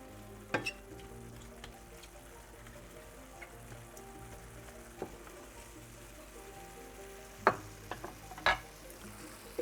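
Small diced onion and chicken pieces sizzle gently in a pan, a soft continuous crackle with a few louder clinks of a utensil stirring against the pan.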